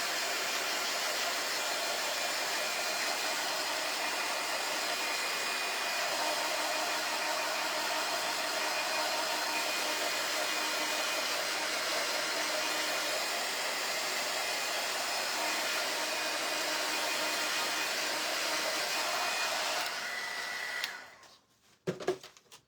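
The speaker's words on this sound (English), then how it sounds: "I'm going to dry it just a tiny bit. I want it just tacky." Hair dryer blowing steadily on a budget fall home decor craft piece to make it tacky, a close, continuous airy whoosh lasting about twenty seconds before switching off, followed by a few clicks and handling noises.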